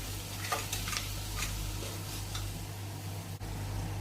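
Chopped tomatoes being stirred into a sizzling curry base for potato curry, a steady frying hiss with a few soft spoon scrapes and a low constant hum underneath.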